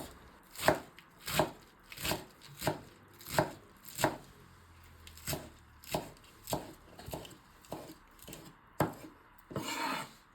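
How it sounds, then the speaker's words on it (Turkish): A knife chops spinach on a board in a steady rhythm of about a dozen soft thuds, fairly close and moderately quiet. "ıspanaklarımızı demet demet alıp hafif kalınca doğruyoruz"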